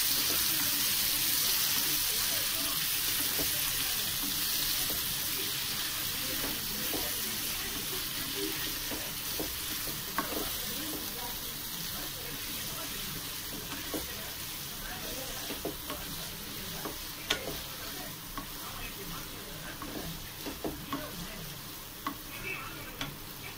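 Prawns coated with turmeric frying in a pan for prawn thokku, a steady soft sizzle running throughout with occasional faint clicks of stirring, fairly quiet and with no talk over it.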